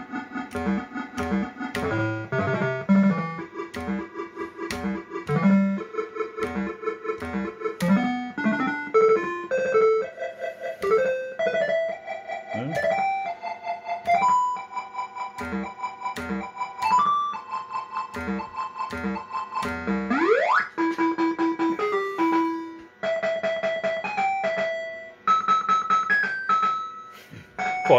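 A PCP pinball machine plays its cash cards feature: a long run of bright electronic beeps, chimes and rising synth tones in quick rhythmic bursts with sweeping pitch glides, steady and fairly loud, no talk.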